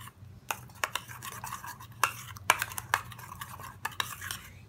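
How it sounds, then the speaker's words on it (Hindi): A spoon stirs a small bowl of skin remedy ingredients, including honey and a few drops of vitamin E oil. Close, irregular scrapes and clinks tap against the dish. "हम इन सब चीज़ों को मिक्स करेंगे।"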